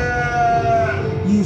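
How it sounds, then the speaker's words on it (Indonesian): A sheep bleats in a pasture, one loud sustained wavering cry close by, with a brief second higher call near the end. "menunggu para domba makan di padang rumput"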